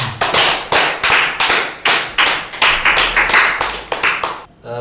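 Hands clap in a quick, even rhythm, about a dozen sharp close claps in a row, then stop abruptly.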